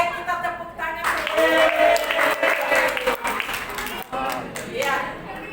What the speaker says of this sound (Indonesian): Baik, kita tepuk tangan.